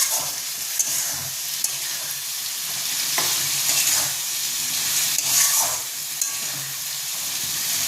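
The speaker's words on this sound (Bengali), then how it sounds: "মশলা কষছে" Masala spices with chicken masala and a pinch of sugar fry in a pan for a potato and pointed gourd curry, a loud, close sizzle with repeated scraping strokes of stirring and no talk.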